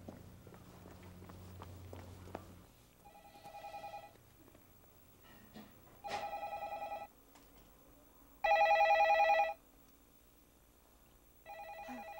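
A telephone rings in repeated electronic bursts with pauses between them, going unanswered, while footsteps and faint room noise sit underneath.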